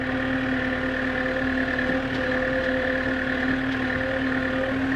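A mini Kubota tractor's engine idles with a steady, even drone and a constant humming tone, running alone without talk for the whole stretch.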